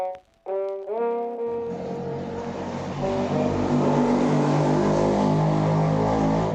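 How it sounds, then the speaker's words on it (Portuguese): Fly buzzing like a motorbike in a video game trailer, a rising revving whine that swells into a sustained loud engine-like drone, preceded by brief tonal sounds. "a mosca tem barulho de moto"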